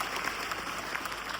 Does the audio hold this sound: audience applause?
yes